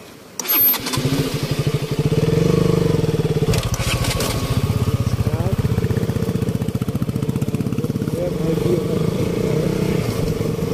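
A motorcycle stuck in a river starts with a sharp crank and then settles into a loud, close, steady idle with a rhythmic engine pulse that continues to the end. No voices are heard.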